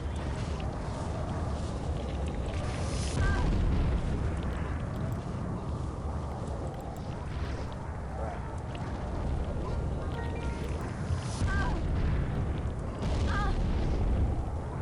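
Roaring fire bursts and booming blasts hit guards in American McGee's Alice, a dense, loud rush of game effects with sharp accents and someone talking over them.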